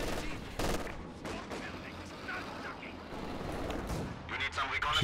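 Mortar and gunfire in a Company of Heroes 2 battle crack and thump in repeated bursts, some near and some distant, over a continuous background of combat noise.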